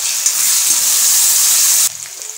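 Onions and potatoes sauté in hot oil in a pan, a loud steady sizzle held close for about two seconds before it drops suddenly to a quieter hiss.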